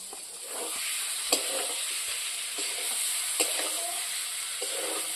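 Fried potato and papaya pieces cook in a pan with spices that have released their oil, producing a steady moderate sizzle with a few sharp stirring taps and scrapes.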